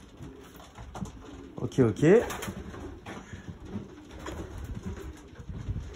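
Pigeons coo in a racing pigeon loft holding about sixty yearlings, with soft repeated throaty coos, the clearest burst near the middle, under someone speaking French.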